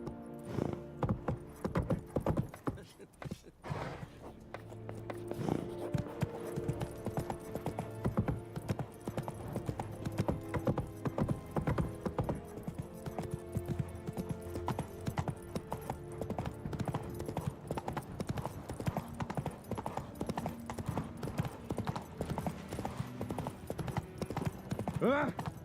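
Galloping horse hooves in The Witcher 3: Wild Hunt, a fast continuous clatter running the whole time beneath dense game music and ambience, with a voice briefly speaking near the start.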